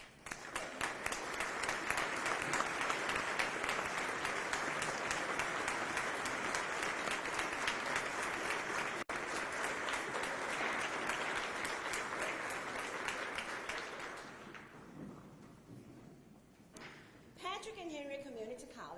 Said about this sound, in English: Faculty, would you join me in an ovation to Dr. J. Gregory Hodges?